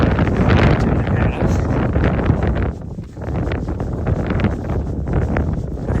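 Strong wind blowing outdoors on a trail run, a steady loud roar of gusts buffeting the microphone with no break.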